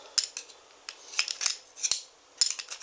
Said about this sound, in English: chop these up really, really fine. Really mince the crap out of them